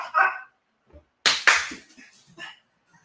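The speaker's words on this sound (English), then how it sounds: "hopefully my dog will be quiet in a second" An indoor dog gives two sharp barks close by, with quieter rustling and a voice before and after.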